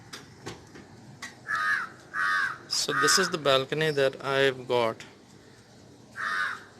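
Crows caw repeatedly around a cottage balcony at a Club Mahindra resort in Pondicherry, harsh calls rising and falling nearby while someone speaks over them.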